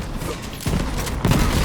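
Rapid overlapping explosions from the Flakker shotgun's flak blasts in Borderlands 3 rumble in dense bursts, with a heavier volley landing around the middle and another near the end, loud and continuous.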